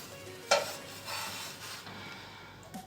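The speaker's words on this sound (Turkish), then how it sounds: "Bir uçtan da yaptığım gözlemeleri pişiriyorum." Gözleme flatbread cooking in a pan: a soft, steady sizzle with a sharp utensil clink near the start and another faint knock at the end, quiet and close, with no talk.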